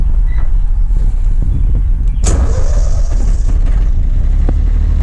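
A Yanmar F16D diesel tractor engine cranks and fires up, then settles into a loud, steady, close-up diesel running drone.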